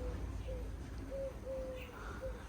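Soft pigeon coos repeat a few times against a steady low background rumble, fairly close and gentle.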